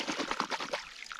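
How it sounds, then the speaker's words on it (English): A short splash of water poured over a phone to rinse off thick, sticky Utah mud, a brief close trickle lasting about a second. "just a little bit of water just to clean it off."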